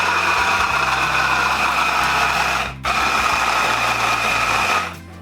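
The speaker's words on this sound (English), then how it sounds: "my food processor is tiny" A tiny food processor blends chickpeas, spices and cilantro for falafel with a steady, loud motor whir. It stops briefly, restarts, and then cuts off near the end.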